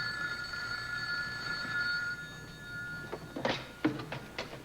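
A telephone rings with a steady electronic trill at first, then fades as a few soft thumps and knocks follow nearby.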